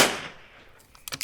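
A single loud rifle shot is fired at a range toward a 2.5-inch target through a Zero Compromise ZC527 scope, a sharp close crack that decays quickly and is followed by a few faint clicks and handling noises.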